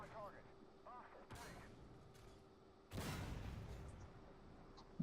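An M1A1 Abrams tank cannon in a video game fires two booming shots; the second is much louder, with a long rumbling tail over a faint steady background.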